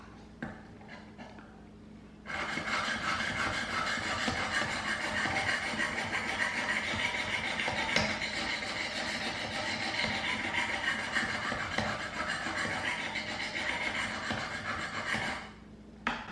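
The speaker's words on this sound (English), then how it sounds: "Now we'll do the 400, and I'm just going to slowly like work my way down through the different grits." A knife is sharpened on a 400 grit stone of a Work Sharp Precision Adjust Elite sharpener, giving a continuous close scraping rasp of steel on abrasive that starts after a quiet opening and stops near the end.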